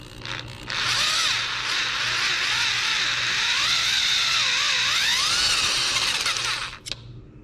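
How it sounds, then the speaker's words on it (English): A power drill runs a 1/4 inch bit through damaged threads in a frame, boring them out for retapping; a loud, steady high-pitched whine with wavering pitch lasts about six seconds and then stops abruptly. "So this just drills out the damaged threads, clears them out to be retapped."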